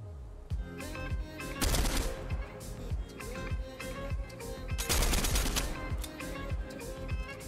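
Rapid bursts of video game gunfire in Fortnite crackle on and off across the stretch, loud and close with dense clustered shots, swelling into heavier volleys near the middle and again later.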